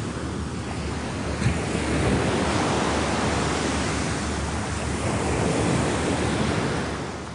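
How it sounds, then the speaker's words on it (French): Hurricane Omar pounds the Guadeloupe coast, with waves around ten metres high and wind gusts over 200 km/h. A steady, dense roar of surf and wind persists, loud and unbroken. "les vagues atteignent une dizaine de mètres. Les rafales de vent, plus de 200 km/h."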